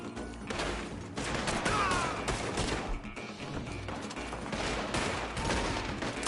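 A western shootout erupts in rapid, overlapping gunfire, with loud close shots and volleys cracking one after another throughout.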